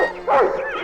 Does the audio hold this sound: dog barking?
yes